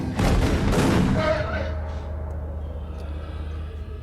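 Gunfire erupts in the movie Evolution, a loud dense burst of shots in the first second and a half, then fading into a rumbling low tail.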